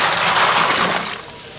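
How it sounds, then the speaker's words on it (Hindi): Goat biryani in the making as a bucket of yakhni, meat stock, is poured over the rice, a steady broadband rush of liquid that runs loud and even, then eases slightly near the end. "ये जो यखनी वाली बाल्टी है ये भी डाल देंगे।"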